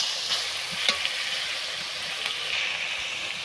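Chili paste and ground spices fry in a hot pan while being stirred, giving a steady, close sizzle with a few faint scrapes and ticks and no voices.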